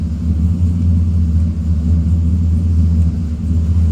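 A Chevy pickup engine fitted with a junkyard-parts hydroboost brake conversion idles steadily, a smooth, loud, continuous low rumble with no talking.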